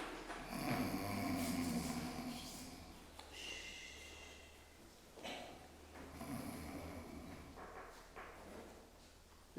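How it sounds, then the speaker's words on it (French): Faint, slow snoring breaths rise and fall in long rasping cycles, each drawn-out inhale followed by a pause, low and soft against a quiet background with no talking. "Moussa s'allonge et se met à ronfler."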